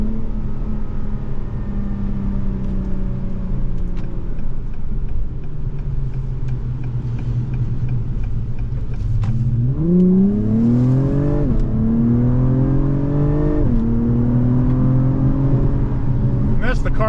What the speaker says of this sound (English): That's the car shifting by itself, and we're flying down the road.